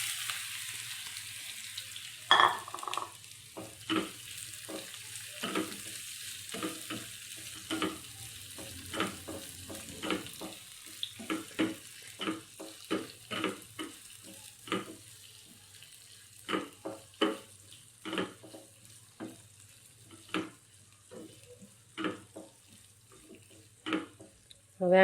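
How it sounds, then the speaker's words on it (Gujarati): Ivy gourd tossed into a hot tempering of mustard seeds, cumin and asafoetida, giving a steady sizzle with repeated stirring clicks and scrapes throughout, close and moderately loud with no talking. "હવે આપણે ગિલોડી નાખી દઈશું।"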